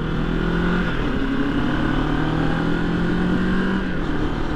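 Moto Morini X Cape 650 middleweight adventure motorcycle engine running, a steady, close, loud low rumble with a smooth even drone and no voices.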